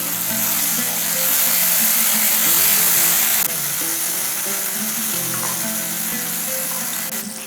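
Egg masala with oil separating from the spice is stirred in a pan, giving a steady, close sizzle and frying hiss with faint scraping throughout, no talk.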